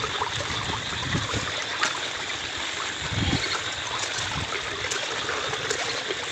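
Steady rushing floodwater pouring continuously into a pond during heavy rain, a broad constant roar with occasional gurgles and splashes, fairly close and without pause.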